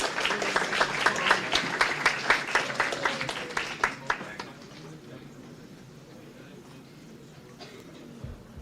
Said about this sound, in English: So just another round of applause for all of our Hoosier Hills students